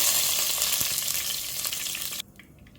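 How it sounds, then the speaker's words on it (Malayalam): Cinnamon, cloves and cardamom fry in hot coconut oil for a Kerala-style chicken stew, a loud close crackling sizzle that drops abruptly to a quieter hiss near the end. "എണ്ണ ഒന്ന് ചൂടായി വരുമ്പോൾ ഇതിലേക്ക് ഒരു ചെറിയ കഷ്ണം പട്ടയും ഗ്രാമ്പും, ഒരു 3-4 ഗ്രാമ്പു, അതുപോലത്തെ ഒരു 3-4-5 ഏലക്ക, ഇത് ഇത്രയും ഞാൻ ഇതിനകത്തോട്ട് ഇട്ട് കൊടുക്കുകയാണ്"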